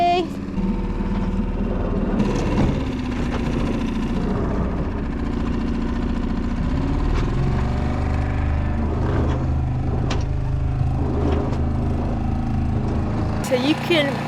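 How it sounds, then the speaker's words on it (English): A sailing boat's engine runs in Scotland, a low steady rumble that continues throughout beneath a person talking close by. "So you can probably hear the engine in the background."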